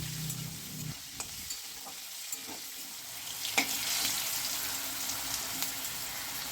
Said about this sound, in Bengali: তেলটা আমার গরম হয়ে গেছে এবার এই আলুগুলোকে আমি তেলে ভেজে নেব